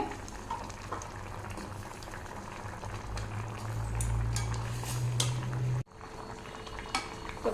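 Vegetables boiling in a pot for vegetable kuzhambu, a steady close bubbling with light clinks of a utensil, the rolling boil swelling briefly before an abrupt cut.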